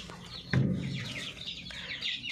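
Hens clucking close by in short, repeated bursts, with some soft squawks and no talking.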